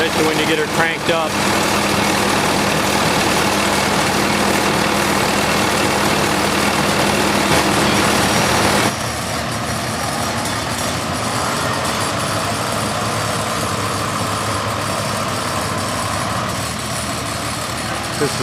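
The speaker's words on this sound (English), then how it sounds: "Amuses me how it kind of rocks the whole tractor, especially when you get her cranked up." An International 1206 industrial tractor's engine runs loud and steady at a farm show, a continuous heavy rumble that shifts slightly partway through, with faint background voices.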